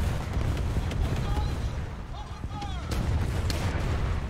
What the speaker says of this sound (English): We'll artillery strike that heavy, try and help our team out.